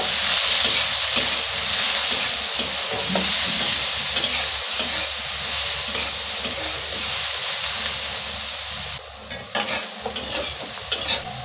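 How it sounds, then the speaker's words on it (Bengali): Soybean chunks fry in hot oil with turmeric and salt, giving a steady, loud sizzling hiss broken by scraping stir strokes, with a few sharper clinks near the end. "তেলটা গরম হয়ে গেছে, এবারে সোয়াবিনগুলো ভেজে নেব।"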